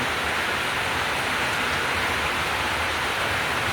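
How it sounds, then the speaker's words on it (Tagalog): Heavy rain pours down steadily in a dense, continuous hiss with no pauses, loud and close, with no voices. "Lakas ng ulan."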